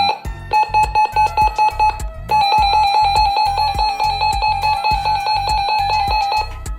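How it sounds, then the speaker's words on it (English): A RadioShack 12-255 weather radio sounds its siren alert, a loud, harsh electronic tone that pulses in rapid bursts, breaks off briefly, then resumes and holds steady. "the down arrow will give us the siren"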